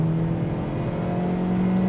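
A Kia Picanto's naturally aspirated four-cylinder engine revs with a steady, moderately loud hum that holds a nearly constant pitch throughout, with no speech.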